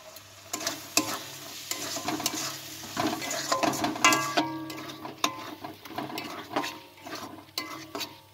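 Green peas go into a spice masala frying in a pan, loud sizzling with watery bubbling and repeated stirring scrapes and knocks against the pan, heard close with no voices.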